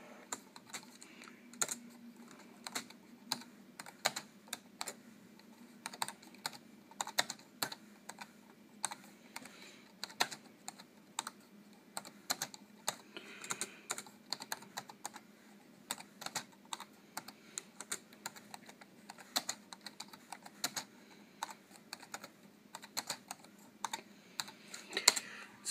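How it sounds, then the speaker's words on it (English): Rapid typing on the keyboard of a Dell Latitude C800 laptop during a rebuild, a steady close run of crisp key clicks with no talking. "do a quick typing test."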